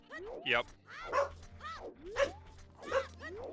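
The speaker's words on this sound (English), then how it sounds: "I apologize about my loud dog." A Shetland sheepdog barks and yips several times in quick succession, close and fairly loud, while a person speaks briefly.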